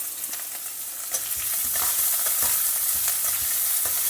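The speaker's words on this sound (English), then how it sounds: "Stir fry all of them in the oil till the nuts are well roasted." Cashews, groundnuts, a dry red chilli and a green chilli stir-fry in hot oil with cumin, giving a steady close sizzle with scraping stirs throughout.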